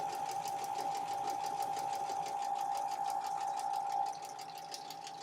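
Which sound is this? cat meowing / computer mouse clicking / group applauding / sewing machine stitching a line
sewing machine stitching a line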